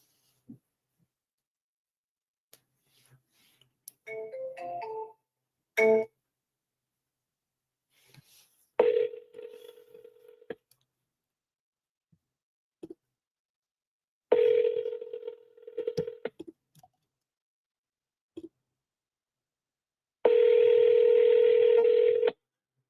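A phone call to a property seller being placed: bursts of touch-tone keypad beeps, then a few separate steady tones, ending in a longer sustained tone, with silence in between.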